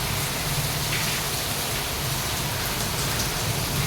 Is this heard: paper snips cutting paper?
no